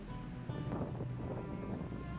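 Ocean waves at a rocky coast in Peru, a continuous low roar of surf with wind buffeting the microphone, steady and moderately distant.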